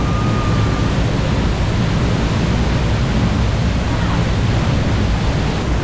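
A waterfall in Bali roars as a loud, dense and unbroken rush of falling water heard up close, drowning out everything else.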